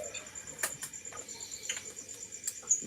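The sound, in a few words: crickets chirping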